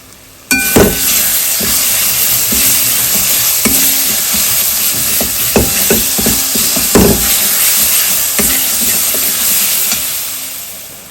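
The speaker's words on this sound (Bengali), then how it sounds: "এবার ভালো করে পেস্টটাকে কষিয়ে নেবো।" Ginger-garlic paste with salt and a pinch of sugar sizzles and fries steadily in a pan, with repeated scraping and stirring knocks from a spoon throughout, close and fairly loud, no talking.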